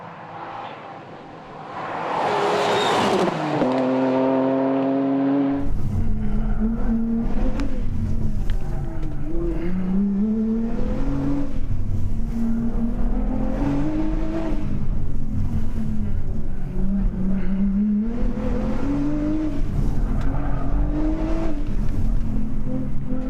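A four-wheel drive turbo Nissan rally car on a Targa NZ stage approaches and screams past close by. Its engine rises through gears in repeated climbing revs that stay loud and continuous with no talk.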